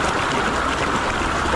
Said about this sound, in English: I've just been working my way up towards this waterfall, quite heavy the flow